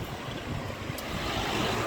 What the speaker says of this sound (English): Today is very windy.